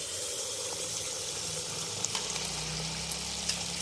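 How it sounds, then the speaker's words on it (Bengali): Malpua batter ladled into hot oil in a kadai sizzles softly and steadily, a faint bubbling fry with a few small pops toward the end, and no talking. "এবার একটু একটু করে বাটার এরকম করে হাতায় করে নেব আর এই তেলের মধ্যে দিয়ে দেবো"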